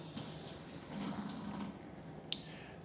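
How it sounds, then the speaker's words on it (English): Hot water from a kitchen faucet runs at a steady low trickle for a few seconds, a soft continuous flow with one brief sharp click near the end. "Turn on the hot water."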